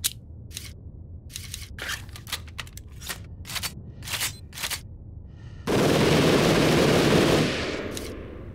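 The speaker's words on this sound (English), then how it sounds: "let's fire the entire magazine" A gun in the video game Zed Zone firing its entire magazine: first a run of spaced single sharp shots, then a loud, dense burst of rapid fire that holds for about two seconds before cutting off.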